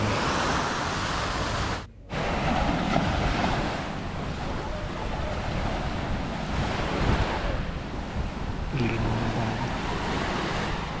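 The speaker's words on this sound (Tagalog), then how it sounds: "Ito yung lugar malapit sa tabing dagat." Surf breaking at the seaside of a provincial island village in San Fernando, Masbate, a steady roar of waves with wind buffeting the microphone, briefly dropping out near the start, no talk.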